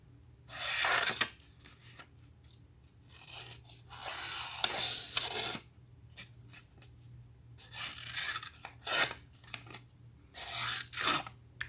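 A small Rough Ryder Cub pocketknife slicing and scraping through a sticky note, heard as several close, dry rasping bursts separated by short pauses.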